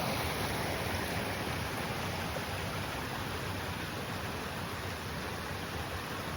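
Steady broadband rush of stream water flowing beside a campsite in Sages Ravine, constant and fairly close, with no voices.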